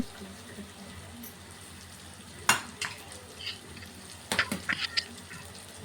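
Eggs frying with broad beans in a pan, seasoned with turmeric and salt: a soft steady sizzle with a few sharp scrapes and clinks of a spatula stirring against the pan, and no talking.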